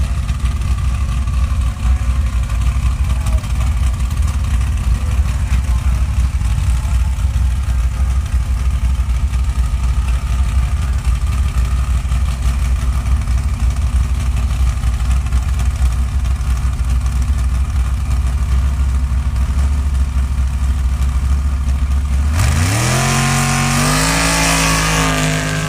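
A Snap-on Pro-class drag racing Jeep rumbles loudly at idle for a long stretch at a dragstrip bracket elimination, then launches near the end with a sharp rising engine roar.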